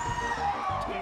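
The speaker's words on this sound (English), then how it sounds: "The crowd is going so hype right now." A crowd at a Super Smash Bros. Melee esports tournament pool match erupts in a brief burst of cheering, whooping and yelling, loud and dense for about a second.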